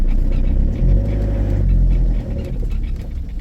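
A car whose gearbox clamps up when hot, refusing to go into gear, gives off a loud, close, steady low engine drone that wavers and surges slightly without clear revving.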